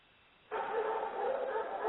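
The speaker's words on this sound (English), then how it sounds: "Somebody's feeding the dogs." Several dogs at a rural home bark and yip excitedly, bursting in suddenly and continuing in a dense, overlapping chorus at moderate distance.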